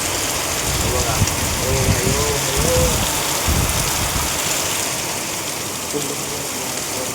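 Heavy monsoon rain pours down in Konkan, a dense continuous hiss and patter close by, with a person talking briefly over it and some engine-like rumble beneath.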